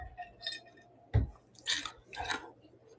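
Ice being crunched between teeth after a drink of water, a few irregular crisp bites and chews close up and fairly quiet, with no talk.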